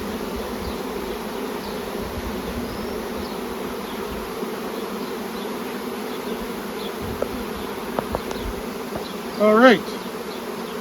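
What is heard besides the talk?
honeybees buzzing in a queen-rearing starter colony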